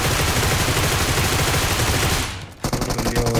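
Rapid automatic gunfire in the BGMI mobile battle royale game, a dense sustained burst that cuts out briefly, then resumes as sharper separate shots.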